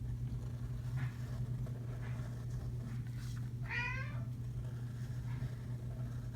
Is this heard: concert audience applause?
no